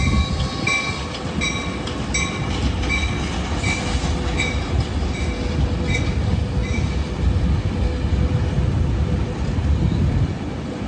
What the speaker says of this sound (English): I guess we're just in time for 2 trains when it's all said and done.